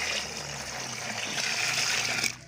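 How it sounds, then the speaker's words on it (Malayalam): Water pours steadily into a slurry of cow dung and oil cake, a continuous close gushing trickle lasting a couple of seconds before it abruptly stops. "ഇനി നമുക്കിതിലോട്ട് ആവശ്യത്തിന് വെള്ളം ഒഴിച്ചു വെക്കാം കേട്ടോ"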